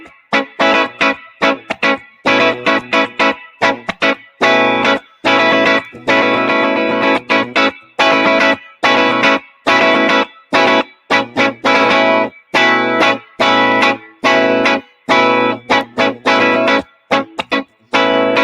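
Electric guitar plays a choppy funk rhythm with distortion and chorus effects, pushing phrases over the bar line. Tight, muted strums and short stabs come in quick, syncopated bursts separated by sharp gaps, with no voices.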